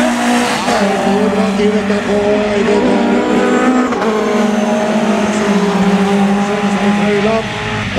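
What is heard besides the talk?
rallycross race cars racing, engines and tire squeal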